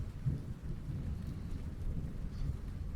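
Steady rain and low rumbling thunder from a storm moving in fill the air as a dense, even wash of sound with no voices.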